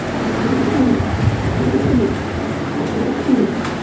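Fancy breeding pigeons cooing in a cage, several soft throaty coos repeating close by over a constant low background hum.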